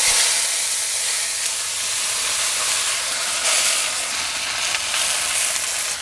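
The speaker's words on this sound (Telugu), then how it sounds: "ఇప్పుడు 1 చెంచా నూనె వేసుకుని పుదీనా కూడా వేయించుకుందాం." Mint leaves frying in a spoonful of oil in a pan for a chutney, giving a loud, continuous sizzling hiss with no talking.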